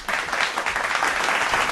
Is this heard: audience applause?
yes